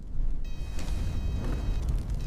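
An F-8 Crusader fighter jet explodes into a fireball after being shot down by MiG-17 cannon fire, a loud, deep rumbling boom that rolls on and sustains heavily, with some thin tonal ringing above.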